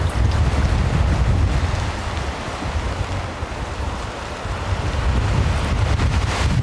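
Storm wind buffets a Big Agnes tent at night by Lake Rogen, a steady loud broadband roar with gusty swells and low rumbling, with no voices.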